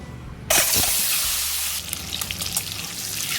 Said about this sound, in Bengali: এবার আমি 6টা ডিম সেদ্ধ করে একটু দুপাশ দিয়ে চিড়ে লবণ হলুদ মাখিয়ে আমি ডিমগুলো ভেজে নেব।